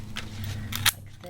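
Scissors snip the wings of a woven paper bird, two or three short, crisp cuts close by, the sharpest near the end of the brief moment.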